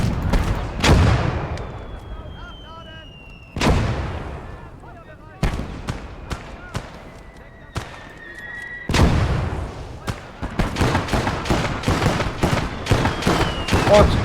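Auto cannon and other heavy weapons firing in a tabletop wargame video game, sharp loud blasts in bursts and single thuds with ringing decays, layered with battle effects and spoken voices.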